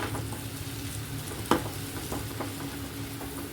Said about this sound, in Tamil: வெங்காயம், இஞ்சி பூண்டு எல்லாமே நல்லா வதங்கிடுச்சு